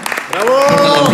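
An event audience claps at a celebration honoring an organizations council; brief scattered clapping opens, then a loud voice speaks over continuing applause in the background.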